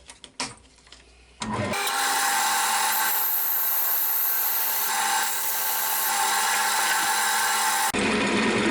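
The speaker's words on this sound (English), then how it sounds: "I've just been taking some out with the spindle gouge" A spindle gouge cuts wood on a spinning lathe, a loud, steady high whirring hiss that starts after a brief quiet moment and carries on almost unbroken before changing slightly at the end.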